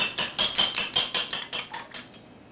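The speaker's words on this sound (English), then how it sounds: "We're going to beat the 2 eggs" Two eggs beaten in a bowl with a utensil, about a dozen quick rhythmic clinks against the bowl, close and clear with nothing else heard.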